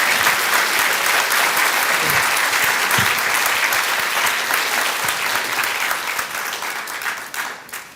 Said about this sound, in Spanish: un fuerte aplauso para el doctor en su homenaje